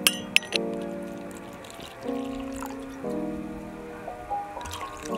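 Wine glasses clink together in a toast over a meal of potatoes, baguette, hot dog and fries, giving a couple of sharp, bright chimes at the start before a quieter ringing tail.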